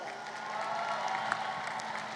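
Graduating class of 2026 applauding themselves at a university commencement ceremony, a steady wash of clapping from a large crowd, moderately distant, with faint crowd noise and no clear speech.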